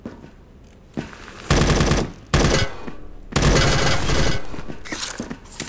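Loud bursts of automatic gunfire in the Roblox shooter Operation Scorpion, three sustained volleys separated by short gaps, close and dominating, with no speech.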